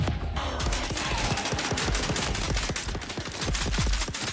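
Sustained rapid gunfire rattles in the Dune Awakening video game, a loud, close burst of repeated shots with an even, fast rhythm running throughout.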